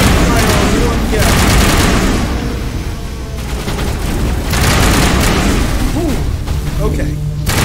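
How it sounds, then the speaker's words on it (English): Sci-fi firefight gunfire in the Mass Effect video game during the Battle of the Citadel, dense bursts of rapid shots and booms under continuous combat noise, fairly loud and sustained. "Just the three of us open fire on one guy."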